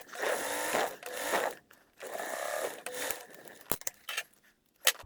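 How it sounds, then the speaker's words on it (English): Sewing machine stitching the outer pieces of a fabric wallet together along a 1/4 inch seam, running in two long bursts then shorter stops and starts, with light handling clicks near the end; no talking. "we are just sewing it together with a 1/4 inch seam allowance"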